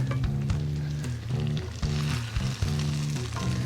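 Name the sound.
ribs frying in a pan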